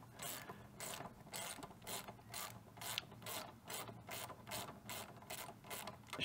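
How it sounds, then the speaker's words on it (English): An 8mm socket wrench ratchets steadily while loosening a brake pin on a Honda CB500X motorcycle, a close, rapid series of clicking bursts repeating about every half second with no talk. "So with your 8mm socket wrench, we're just going to loosen the brake pin."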